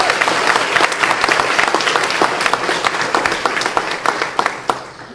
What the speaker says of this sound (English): We should clap for this.